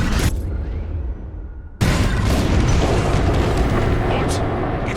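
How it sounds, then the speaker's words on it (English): Bombs go off in a space combat game, Star Wars: Squadrons, as a dense, roaring blast that cuts in abruptly after a brief drop and rumbles on loudly, with game dialogue mixed in. "On my mark, it's bombs away."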